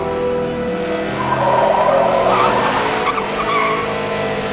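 A car skidding as its brakes fail in an audio drama: a loud, sustained tire squeal with engine roar, steady throughout and swelling slightly in the middle, close up with no voices.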